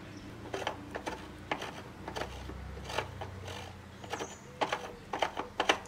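Small ratcheting clicks and mechanical tightening sounds come in short irregular bursts while parts are screwed onto a Cecotec Bongo Serie A Connected electric scooter, close and fairly quiet.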